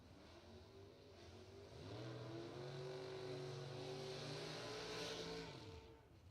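A pro stock-style Beretta car at a bracket drag racing event launches with a rising, sustained engine roar that builds and holds before fading off, heard at a distance with no talking.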